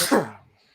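A single sharp sneeze bursts out close by, loud at first and then fading quickly into a quiet room.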